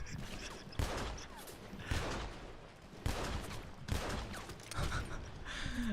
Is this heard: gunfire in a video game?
yes